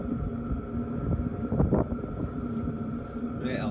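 Gusty wind buffets the microphone outdoors beside a running 5 kW Chinese diesel heater, a low rumbling roar that swells midway, with a brief higher-pitched whine near the end.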